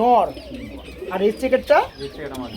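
Red checker racer pigeons cooing in cages at a pigeon market, with close, throaty rolling coos repeating among general bird chatter and nearby voices.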